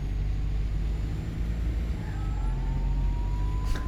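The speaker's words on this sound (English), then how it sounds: "I just love the engine noise from this thing." A bus engine in the OMSI 2 bus simulator game rumbles steadily at low pitch with a faint high whine rising over it, loud and continuous, no talking.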